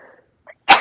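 A single sharp human sneeze bursts out loudly near the end, preceded by faint soft breathy sounds and a small intake of breath.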